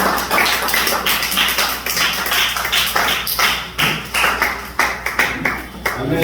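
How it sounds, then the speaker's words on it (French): A congregation in a church claps in a rhythmic, close beat of sharp hand claps and thuds, with voices sounding underneath. "est-ce que nous pouvons applaudir pour la parole?"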